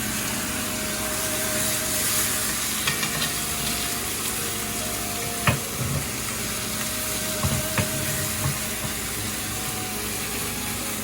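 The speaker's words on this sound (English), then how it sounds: "We're gonna put it on the grill right now." Grandma's steak sizzles on a grill as a steady, close hiss runs throughout, with a few soft clicks and thumps near the middle.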